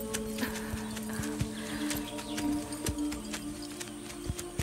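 Horses walking with a rider, hooves clip-clopping in an irregular steady rhythm at moderate distance, faint against a low background hum and soft rustle.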